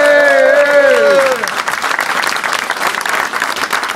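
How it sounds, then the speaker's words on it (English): A voice trails off, then a crowd breaks into warm applause honoring Neil Davis at a Two Tone Village presentation, the clapping a full, even patter from a sizable audience that carries on to the end. "let's have a big round of applause for Neil Davis"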